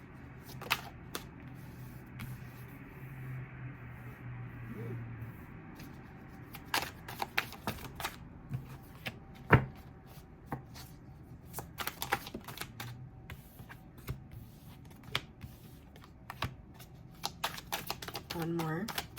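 Tarot cards are shuffled and drawn onto a table, making soft irregular taps, flicks and riffling sounds close by under a person's steady spoken narration.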